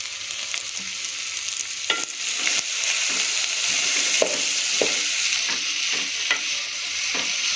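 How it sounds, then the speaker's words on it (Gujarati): Vegetables with tomato and the white part of spring onion for manchow soup are stirred in a hot pan, a steady close sizzle broken by repeated scraping taps of the spoon. "લીલી ડુંગળીનો વ્હાઈટ ભાગ છે એને પણ આપણે આમાં એડ કરી દઈશું અને આને આપણે એકવાર હલાવી દઈશું"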